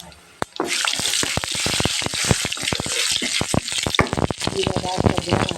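Cumin seeds hit hot oil for tempering in a home kitchen, setting off a loud, crackling sizzle full of sharp pops and spatters that continues from start to finish after a quiet opening.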